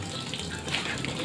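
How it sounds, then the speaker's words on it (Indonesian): Water rushes steadily into a washing machine while its pump runs, a close, continuous gushing hiss with no talk. "air mengalir lalu pompa bekerja"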